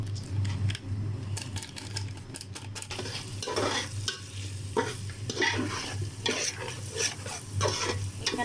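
Biryani masala made with ready-made biryani spice fries steadily in a pan while a spoon stirs it, giving a continuous close sizzle with repeated scraping strokes throughout, with a low steady hum underneath.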